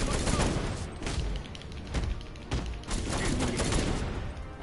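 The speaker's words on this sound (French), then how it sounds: "le fait qu'on puisse se débarrasser des ennemis avec le flingue, ça va plus vite." Dense, steady gunfire from a gun used against enemies in a Batman Arkham Knight Batgirl and Red Hood story DLC, a continuous rattle of shots with game sounds and a voice talking underneath.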